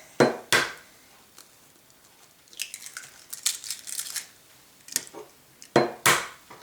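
Eggs added to flour in a bowl and whisked for lemon squares, close sharp clinks of shell and utensil on the bowl, then a busy run of scraping, tapping whisk strokes and a few final knocks.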